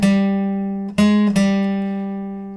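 Electric guitar plays the tail-line lick of a song: a sustained note rings, then two sharp plucked attacks follow close together, each left to ring out and fade, played alone.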